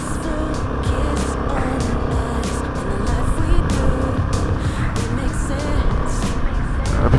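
A motorbike engine revving and pulling hard as the rider opens the throttle on a twisting road, a loud, continuous close-up roar with wind noise.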